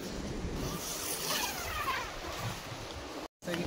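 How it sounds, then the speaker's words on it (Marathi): Steady broadband wash of sea surf rolling in below a hillside campsite, continuous and fairly even, with wind noise mixed in and a brief dropout near the end. "इकडं समुद्र आहे खालच्या साईडला, आवाज येत असेल तुम्हाला."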